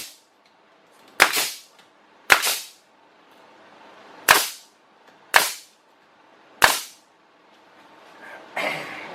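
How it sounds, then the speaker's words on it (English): A nail gun drives 2-inch finishing nails into rough-sawn wood for a rustic live-edge table: five sharp, loud pops spaced about a second or two apart, followed by a softer, duller knock. "I'm just going to shoot these in with some 2-inch finishing nails."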